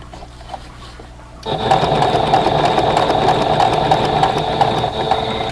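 A sewing machine starts up and runs in a steady, close, continuous hum while stitching binding onto a quilt edge, after a quieter moment of handling before it begins.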